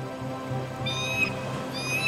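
A creature in the Spore video game gives two short, high bird-like squawking calls over a steady droning game background.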